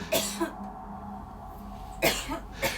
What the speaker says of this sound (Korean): 이 숙소가 너무 추웠는지 장기침이 이제 계속 나오더래요.